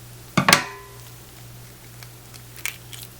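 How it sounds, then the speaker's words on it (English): Scissors trim the neck of a plucked dove, giving a quick double snip up close. A quieter click follows a couple of seconds later over a faint low hum. "So just trim with the tip of your scissors there."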